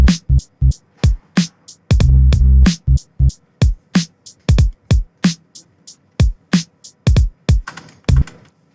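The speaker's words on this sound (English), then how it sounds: "I can turn on the groove and it'll sound something like this" A hip-hop drum beat with the groove setting switched on, close and loud: punchy kick and snare hits in a swung, uneven rhythm with a brief sustained noisy burst near the start, no voices.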